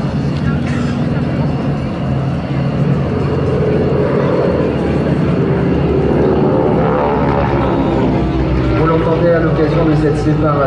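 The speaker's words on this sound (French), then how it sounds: "le bruit tout à fait singulier du moteur" A T-6 Texan propeller aircraft engine drones steadily and loudly throughout, a continuous throaty rumble with a narrator talking over it, at an air show at Saint-Dizier air base, France.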